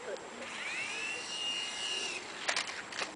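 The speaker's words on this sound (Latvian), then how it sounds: "Jūsu uzmanībai karalienes helikopteris." A remote-controlled toy helicopter whines steadily with a high, rising and falling rotor tone, near and continuous, with a few sharp knocks toward the end.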